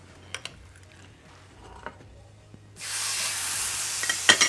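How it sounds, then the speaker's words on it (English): A steak dropped into a hot pan bursts into a loud, steady sizzle partway through, after a few quiet clinks and handling sounds, the searing hiss holding strong and close until the end. "Can you hear that steak sear?"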